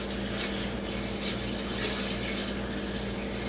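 Brown sugar and salt brine pours steadily over raw chicken in a container, a continuous splashing, gurgling wash of liquid held at an even level throughout, with a low steady hum beneath and no talking.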